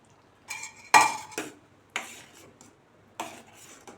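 Cooked sago pearls go into a pot of jackfruit payasam, giving a few close, sharp clinks and scrapes of a utensil against the pot, spaced out with short pauses and no talking.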